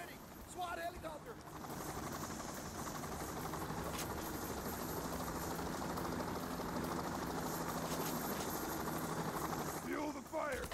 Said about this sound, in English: SWAT helicopter.